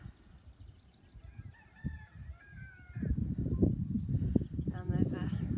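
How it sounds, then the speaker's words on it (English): A cockerel crows from an isolated farmhouse in Lake District countryside, a drawn-out call carried across open fields, faint at first before nearby talking and footsteps crowd in over it. "a farmhouse over there where the cockerel crowing is coming from"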